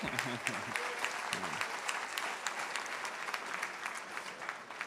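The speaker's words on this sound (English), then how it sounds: "That deserves a round of applause, right?" Audience applause at a college inaugural celebration, a steady wash of many hands clapping throughout, fairly distant and even, with a few faint voices briefly underneath at the start.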